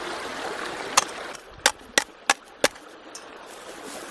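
Roasted coffee beans are ground by hand at a campfire, with five sharp, close cracking crunches over an outdoor hiss, spaced irregularly and followed by faint softer rustling.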